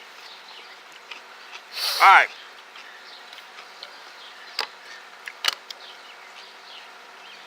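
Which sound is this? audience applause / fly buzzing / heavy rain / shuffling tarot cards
fly buzzing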